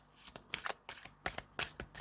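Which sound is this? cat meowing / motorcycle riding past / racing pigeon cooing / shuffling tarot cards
shuffling tarot cards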